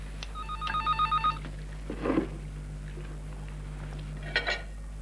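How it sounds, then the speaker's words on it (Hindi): A telephone bell rings in two short bursts, a brief pause, then a final ring near the end, over a steady low hum with a faint clatter. "नाश्ते के वक्त फोन की घंटी मुझे सख्त नापसंद है।"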